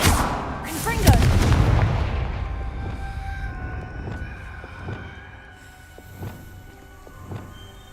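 A Confringo fire spell in the video game Hogwarts Legacy goes off as a loud booming explosion, then a crackling, rumbling tail fades and is broken by a few sharp magical hits.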